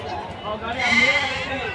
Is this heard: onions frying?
no